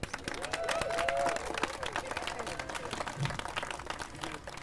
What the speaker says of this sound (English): Let's give these kids an applause.